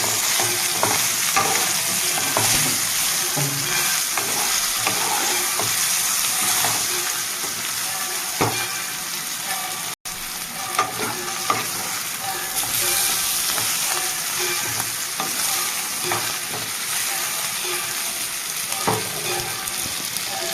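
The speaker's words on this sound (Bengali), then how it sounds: "এর মধ্যে দিয়ে দেবো আমি মাছের মাথা, দিয়ে একটু নেড়ে চেড়ে নেবো" Fish head and taro stolons fry in a pan, with a loud, close sizzle running throughout and repeated scraping stirs of a spoon cutting through it.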